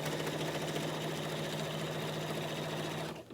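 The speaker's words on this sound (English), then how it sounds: "I'm just going to sew that all the way till I get down to the corner." A sewing machine stitches quilt binding in a fast, even, continuous whir with a steady mechanical hum, close and alone, stopping abruptly at the end.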